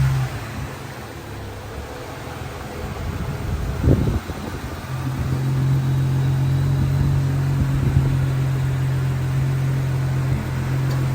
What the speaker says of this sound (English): now the car will start